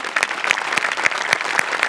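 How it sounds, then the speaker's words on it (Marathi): Brief burst of clapping from a small group, evenly paced sharp claps, close and fairly loud. "जोरदार टाळ्या."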